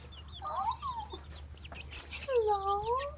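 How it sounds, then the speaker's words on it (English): Farmyard chickens cluck in short bursts at moderate distance, with a steady low hum of background noise underneath. "I hear chickens."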